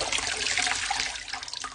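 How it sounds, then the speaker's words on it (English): Water mixed with hair styling product dripping and trickling from wet wavy hair into a bowl, a brief close-up run of splashy drips and patters, fairly loud and alone. "all the product is falling back into the bowl"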